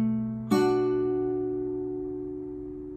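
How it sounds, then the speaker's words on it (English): Acoustic guitar plucked in a beginner fingerpicking pattern of low string, then a middle string, then two higher strings together, ringing out clearly and closely with a single sharp attack and a long sustaining decay, no voices. "the plucking pattern here is going to be you pluck your 6th,"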